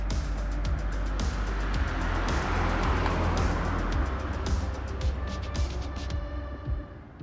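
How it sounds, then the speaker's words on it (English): A car passes by at night in a backyard setting, its broad engine and tire rumble swelling loud and close, then gradually fading away with a low hum beneath. "As the car passes by, the lights look amazing."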